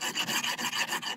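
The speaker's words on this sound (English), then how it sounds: "File them holes just a little bit." Hand file rasping at screw holes in a Škoda Favorit steering wheel, a rapid run of about eight close, rhythmic strokes with a bright, gritty scraping tone and no talk.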